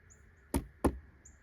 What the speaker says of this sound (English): we're just gonna give it a quick knock test